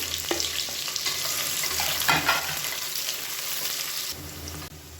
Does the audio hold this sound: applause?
no